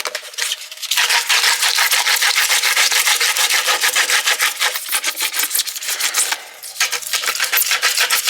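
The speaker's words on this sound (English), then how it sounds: "we're going to sand it anyway" Coarse 36-grit sandpaper rubs over PVC, producing loud, close, rhythmic back-and-forth scraping strokes that carry on steadily with a brief pause near the end.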